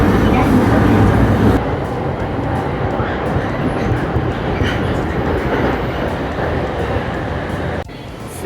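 A Chuo Line local train running through Tokyo, heard from inside the car as a loud, steady rumble of wheels and motor, with a sharp drop in level partway through and a second dip near the end.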